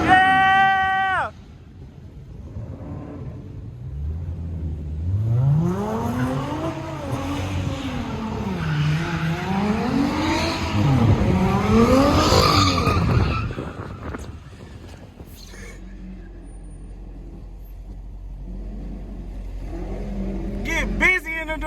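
A Dodge Durango R/T spins donuts on wet pavement in the rain, its engine revving in long rising and falling sweeps with tire squeal, loud and close, while people whoop and shout over it and the engine settles to an idle rumble afterward.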